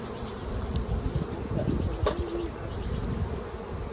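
Honey bees hum steadily and close around a hive during package installation, a dense, continuous drone with a few brief louder passes as individual bees fly near.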